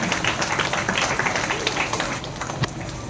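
Applause from the audience at a school's annual function and certificate ceremony, a steady wash of many hands clapping throughout, loud and dense, with crowd noise mixed in.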